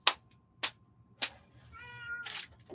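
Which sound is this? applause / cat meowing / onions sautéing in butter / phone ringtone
cat meowing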